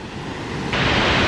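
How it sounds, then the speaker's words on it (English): A waterfall at Mendenhall Glacier in Juneau, running far higher than usual, gives a loud, steady broadband rush with no break. It swells slightly near the end and no voices are heard. "Pretty crazy waterfall,"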